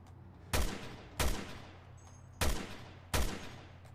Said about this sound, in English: Can you take a pot shot at that ladder?